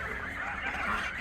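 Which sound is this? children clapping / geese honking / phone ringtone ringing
geese honking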